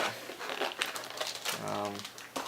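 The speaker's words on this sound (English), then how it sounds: "Oops, and I just ripped the box." Cardboard packaging for a Logitech K800 keyboard crinkles and tears during unboxing, with close, busy crackling rustles throughout and a voice talking over it.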